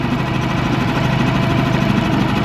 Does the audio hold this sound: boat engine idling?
yes